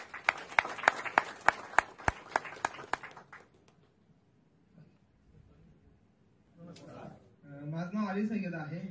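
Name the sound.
loud applause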